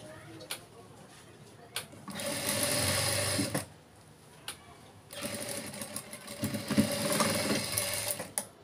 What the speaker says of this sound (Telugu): ఇది ఈ విధంగా లోపలికి వేసేసి ఈ విధంగా కుట్టు వేసుకోండి